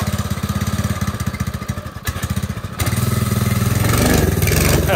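A Ford F150 truck engine struggles to idle, its chain too tight: a loud, close, rough pulsing chug that stumbles and dips, then picks up to a steadier, louder run.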